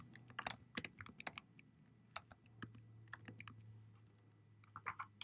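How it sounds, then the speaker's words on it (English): A name being typed on a computer keyboard: a quick, irregular run of light key clicks, close and faint, over a low steady hum, with no talking. "I'm going to type in my name."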